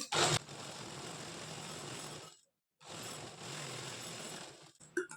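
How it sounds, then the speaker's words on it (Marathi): An electric sewing machine stitches along a blouse neckline with a loud, steady whirring run, then a brief pause, then a second continuous run ending in a few short clicks. "त्यानंतर खालच्या साईडनी आपल्याला कमरेच्या बाजूनी टिप मारून घ्यायची आहे"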